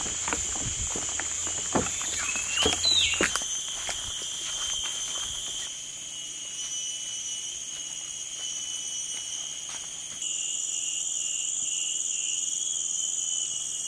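Rainforest ambience reached by boat upriver, with steady high insect or bird drones and scattered chirps, some light rustles and footsteps early on, no talk.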